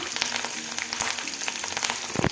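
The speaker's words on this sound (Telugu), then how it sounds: "అన్నీ వేసి ఫ్రై చేసేసుకున్నాము" Chicken pakoda with green chillies and curry leaves frying in hot oil, a steady close crackling sizzle with scattered sharp pops throughout, no voices.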